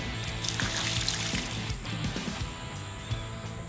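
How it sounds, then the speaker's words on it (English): Water is tipped out of the trough of a Tormek T8 water-cooled sharpener, trickling and sloshing up close with a few irregular splashes and drips that taper off toward the end. "we'll tip the water out"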